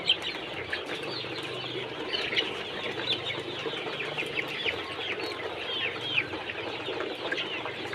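Brown chickens cluck and call steadily around midday feeding, a busy, continuous flock chorus with occasional louder squawks and faint wing flaps, no talking.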